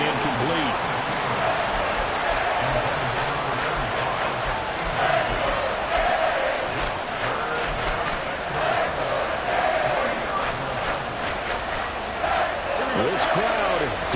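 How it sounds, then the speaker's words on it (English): A stadium crowd in the Madden 24 football video game roars continuously at moderate level, with swells of cheering under ongoing commentator talk. "This crowd doing all they can."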